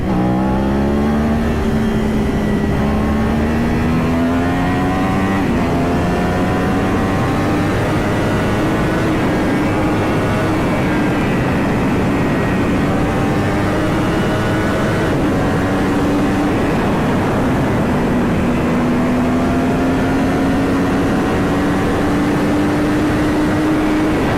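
A superbike engine revs hard and accelerates up through the gears, a loud, rising whine with repeated climbs in pitch, heard close and alone.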